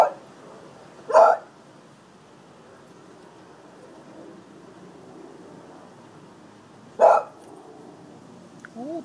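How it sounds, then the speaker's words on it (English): A dog waiting for its ball gives two sharp, loud barks several seconds apart, with near silence in between. "Oh, barking ain't gonna get it."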